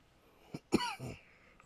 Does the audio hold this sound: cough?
yes